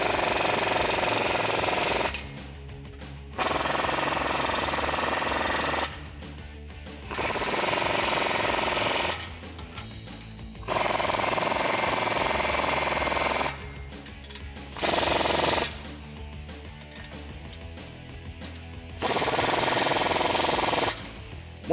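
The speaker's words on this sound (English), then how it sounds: "tighten down all the clamps and hardware." An impact-style power tool tightens exhaust clamps and hardware on a 2011-2014 Ford F-150 3.5L EcoBoost, firing in several loud rattling bursts of a few seconds each, separated by short silences.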